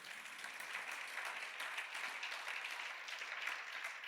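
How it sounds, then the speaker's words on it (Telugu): Audience at a Christian sermon claps continuously, an even, moderately faint patter of many hands sustained without pause and no voices on top. "రావాలన్న వాళ్ళు చప్పట్లు కొట్టండి"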